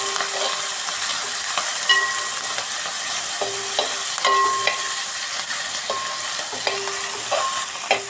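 Chopped ginger and green chili sizzling in hot oil while being fried for fish pickle, a steady bright crackle with a utensil clinking against the pan at intervals.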